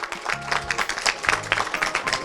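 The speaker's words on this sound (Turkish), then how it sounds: "Mustafa Bey'e şöyle kuvvetli bir alkış alabilir miyiz efendim?" Guests at the opening of a large wholesale and retail market in Bursa clap for Mustafa Bey, a brisk, uneven patter of hands with a low musical drone running underneath.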